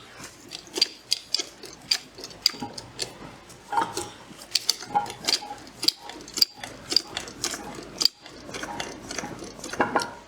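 Truck disc brake rotor hub being jacked up on a rotor dolly: a series of sharp metallic clicks and ratcheting ticks from the jack mechanism, irregular and close, with no talk.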